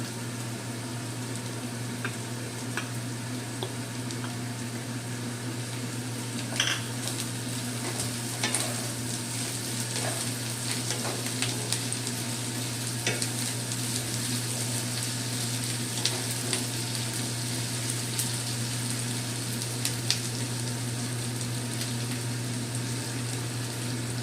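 Fried onion with chopped ginger, coriander leaves and chilli sizzles in a pan as a constant, even hiss under a low steady hum, with occasional stirring clicks and no voices.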